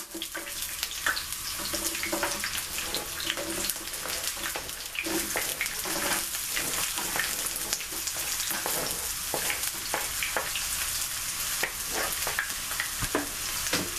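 Onions frying in a pan for home fried potatoes, making a steady, dense sizzle and crackle with small stirring scrapes throughout, close and continuous, with no talking.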